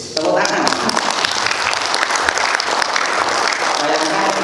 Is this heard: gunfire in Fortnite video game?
no